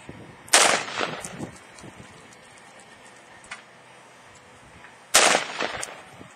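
Two loud, sharp shotgun blasts during a bird hunt outdoors, several seconds apart, each cracking close by and trailing off in a brief echo over quiet field ambience.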